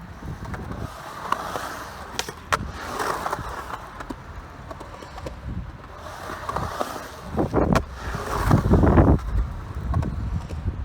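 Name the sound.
skateboard doing kick turns on a wall, tail scraping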